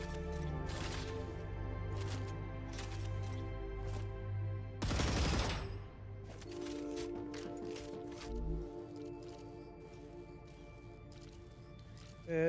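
Assault rifle fire in the StarRupture video game, scoped with an extended magazine: several sharp single shots spaced apart over a steady droning background, with one louder burst midway.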